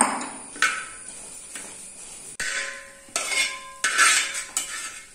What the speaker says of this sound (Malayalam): അവിലിട്ടിട്ട് ഇളക്കി കൊടുക്കാം